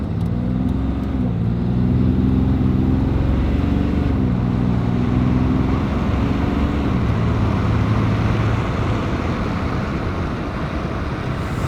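A diesel vehicle accelerates up to 60 mph, its engine a continuous loud drone with a low pitch that rises and shifts through the gears, with road noise underneath and no voices.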